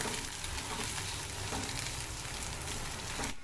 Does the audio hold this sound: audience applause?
no